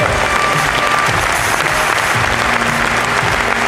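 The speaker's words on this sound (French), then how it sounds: "Vous pouvez les applaudir très très fort." A hall audience at a Vendée cycling presentation evening applauds the riders, a loud, unbroken wash of clapping from many hands that holds steady throughout.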